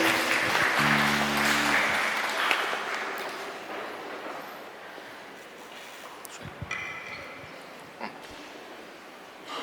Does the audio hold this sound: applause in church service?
yes